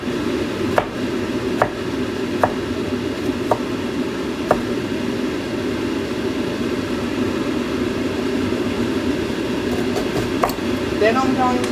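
A knife chops an onion on a cutting board in a kitchen with a stove going, giving a handful of sharp, evenly spaced taps over a steady background hum, with a few quicker cuts near the end.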